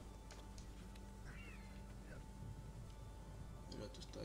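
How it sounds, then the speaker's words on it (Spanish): A cat meows a few times in the video game Immortals Fenyx Rising, short rising calls heard at moderate distance against a steady game ambience, with speech around them. "El gato está ahí."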